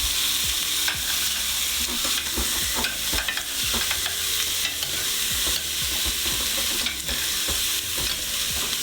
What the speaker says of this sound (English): I'll have my trusted sous chef here stir that up and keep an eye on it.